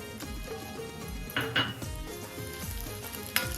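Onions sizzle steadily in hot oil in a kadhai, with occasional clanks and scrapes of a utensil against the pan, close and continuous.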